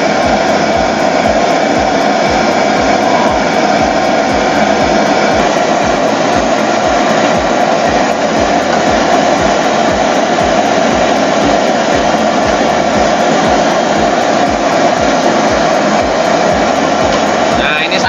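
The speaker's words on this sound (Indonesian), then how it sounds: "ini sambel yang saya giling pakai mesin" A motorized grinder runs continuously, close and loud, milling chili sambal for chicken noodles at a street cart, a steady whirring drone with a fine rattling edge that never lets up.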